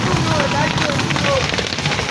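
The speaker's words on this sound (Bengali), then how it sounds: "বৃষ্টি পড়তেছে বাইরে।" Steady rain falls outside in the morning, a dense, even patter that fills the whole moment, with a voice talking over it.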